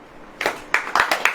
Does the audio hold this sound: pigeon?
no